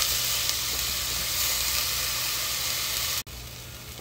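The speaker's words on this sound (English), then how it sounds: "we're gonna saute this for about 2 minutes" Onions sautéing in a pot for onion gravy to go with meatballs, a soft continuous sizzle and hiss under a low steady hum, cutting out briefly near the end.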